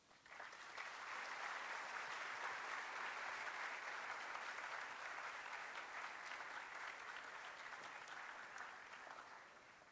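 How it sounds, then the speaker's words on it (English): Warm, sustained applause from an audience after an academic's talk in an elegant setting, a steady even roar of many hands that swells in and tapers off slightly at the end. "It's wonderful to hear somebody applauding for an academic in this lovely setting"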